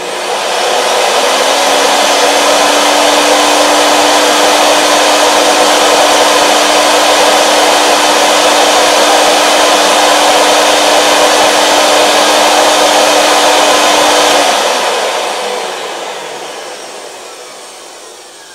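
A Breathecool II supplied air respirator blower runs with a loud, steady airy whir and a low hum for about fourteen seconds, then spins down and fades out.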